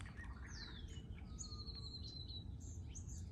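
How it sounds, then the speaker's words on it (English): Birds sing in a garden near a pepper tree, with bright chirps and whistled phrases at varying distances over a soft steady rush of background noise, and no one speaking. "Just the birds singing."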